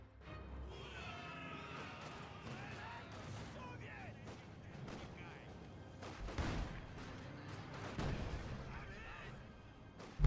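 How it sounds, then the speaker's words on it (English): Mortar fire in the strategy game Company of Heroes 2, with scattered thumps and crashing impacts amid ongoing battle noise and someone commentating over it. "I thought that mortar was going to get a much better hit than I thought it was"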